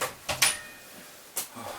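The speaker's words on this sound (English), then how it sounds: "let me shut the door" A door is pushed shut indoors with a few sharp knocks and clacks, one bang near the start, another about a second later, with quiet room tone between.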